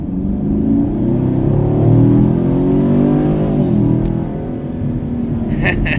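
A Chevrolet Camaro SS engine accelerates with a loud, deep rumble, its pitch climbing and harmonics rising through the revs, then easing back with a brief click near the end.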